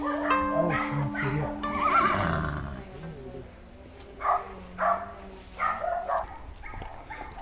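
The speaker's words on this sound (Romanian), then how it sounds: "A, uite, e un cal aici." A horse neighs at a rural former camp, several short whinnying bursts in the first seconds, fairly close and loud, followed by quieter scattered sounds and faint voices.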